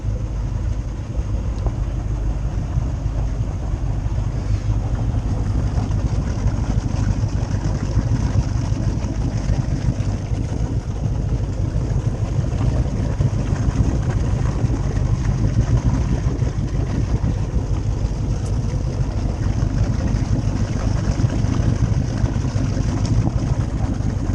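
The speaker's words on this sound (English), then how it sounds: "warming up the engines" Steady low rumble of Luhrs 28 boat engines warming up, an even idling hum without a break and no voices.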